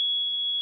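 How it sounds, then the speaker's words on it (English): A Raspberry Pi temperature sensor gives off one steady, high-pitched electronic beep that holds unbroken for under a second, fairly loud and alone. "it beeps."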